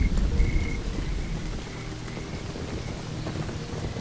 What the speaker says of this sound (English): This sudden streak of rain seems abnormal.